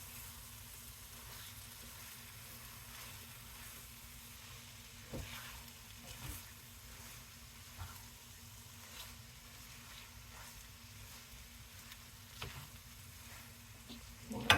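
Pepper steak sizzles quietly in a pan as it is stirred, a soft steady frying hiss with occasional scraping clicks of the utensil.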